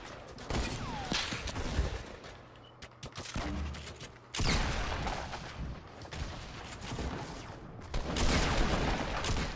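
Bursts of automatic and single-shot gunfire in a Fortnite match, near and loud, coming in uneven volleys with short lulls between them.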